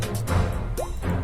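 A single rising water-drop 'plop' effect pops out briefly over a dense string-heavy rap track, fairly clear against the music.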